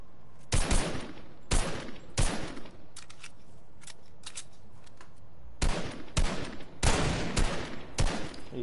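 Gunfire in a Fortnite squads match comes in several sharp bursts of rapid shots separated by short pauses, loud and close, with no talking.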